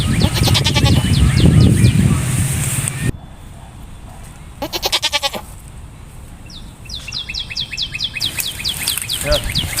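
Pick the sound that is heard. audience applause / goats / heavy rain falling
goats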